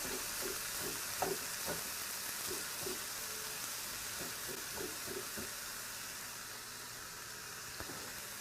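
Cauliflower rice frying in a pan, with a steady sizzling hiss and a few soft stirring scrapes near the start, no talking.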